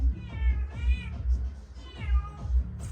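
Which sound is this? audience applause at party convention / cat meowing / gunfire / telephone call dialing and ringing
cat meowing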